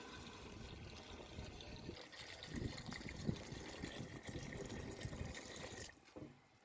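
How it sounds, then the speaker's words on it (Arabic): Water, about a liter and a half, is poured into a cooking pot while making fish restaurant style sayadieh rice, a quiet steady stream filling the pot that stops near the end. "وبعد ما اديناهم التشويحه هننزل بلتر ونص من الميه."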